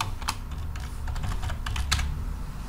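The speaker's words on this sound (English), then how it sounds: "So I could type that in" Fingers tapping keys on a computer keyboard, a quick irregular patter of soft clicks close to the microphone over a steady low room hum, with no voices.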